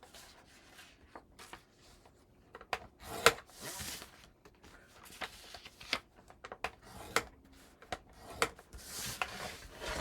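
Scoring tool pressing score lines into paper pieces for a handmade mini album, giving soft scraping and tapping strokes in short irregular bursts, close by with no talk.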